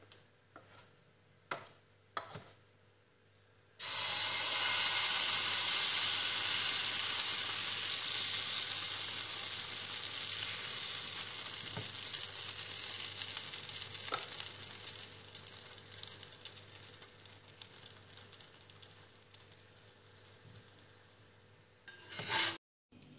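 Moroccan pancake batter hits a greased pan with a loud, steady sizzle that holds for many seconds and slowly fades, preceded by a few short knocks and ending with a clatter.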